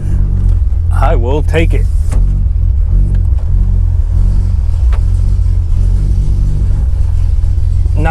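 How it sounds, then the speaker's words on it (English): A cold MK3 car engine starts and settles into a loud, rough, rumbling idle, with a brief squealing whine near the start and a person speaking briefly over it. "Not the happiest cold start,"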